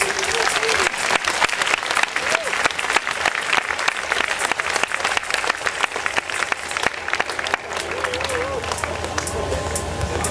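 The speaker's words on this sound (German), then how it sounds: "Ich bitte jetzt um einen wirklich, wirklich großen Applaus" A theater audience at a staged Wilhelm Tell performance claps steadily and loudly, a dense, continuous applause that runs throughout, with a voice speaking over it.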